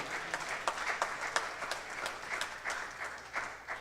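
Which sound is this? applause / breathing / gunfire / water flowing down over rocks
applause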